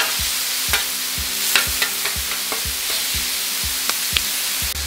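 A breakfast skillet sizzles on a 28-inch two-burner flat-top griddle, a loud, continuous hiss with scattered crackles and a soft rhythmic scraping as the food is spread out.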